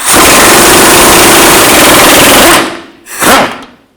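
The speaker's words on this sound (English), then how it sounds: "I'm going to take the control arm bushing bolts out" An impact tool rattles in a loud continuous burst while removing lower control arm bushing bolts on a 2000-2006 Chevy Tahoe, then stops briefly and fires one short second burst, close up with no talking.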